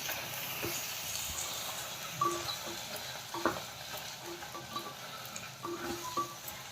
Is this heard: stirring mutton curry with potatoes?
yes